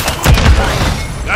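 Gunfire and explosions in a military shooter game, a short cluster of heavy booming shots and thumps over a noisy battlefield bed.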